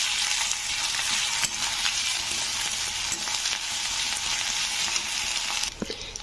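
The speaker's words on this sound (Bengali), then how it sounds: "তো পেস্টটা দিয়ে একে আমি ভালো করে নাড়িয়ে দিয়ে দেবো যাতে আদা রসুনের কাঁচা গন্ধটা কেটে যায়।" Ginger-garlic paste frying and being stirred with onions in a pan: a steady, loud sizzle with a soft spoon scrape near the end, no voices.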